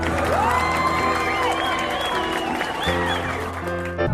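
Cartoon students clap in a classroom, a short burst of applause heard under a sliding whistle and bright animated music.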